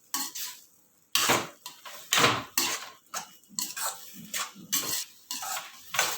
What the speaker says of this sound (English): But this will get thickened very quickly, so keep stirring it.